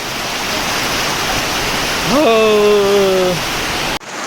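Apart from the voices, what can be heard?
heavy monsoon rain pouring in Konkan village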